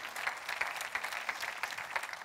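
A church congregation claps during a sermon, steady rhythmic applause with distinct individual claps, moderately close, and no voices over it.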